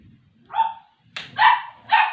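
A dog barks three times in quick succession, sharp and fairly close, with quiet background between barks.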